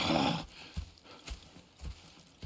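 Horses in the Red Dead Redemption 2 video game stamp and shift in place, a few soft, separate hoof thuds spaced through a quiet camp scene.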